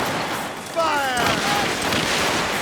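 Ship cannons fire during a naval battle in Assassin's Creed Rogue, a burst of booming blasts with crackling noise and a shouted voice layered over a loud, dense battle din.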